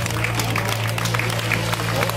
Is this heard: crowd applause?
yes